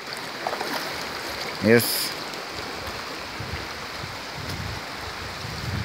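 Crystal-clear river water at a Jamaican mineral spring flows with a steady, even rush close by, while a voice briefly speaks over it.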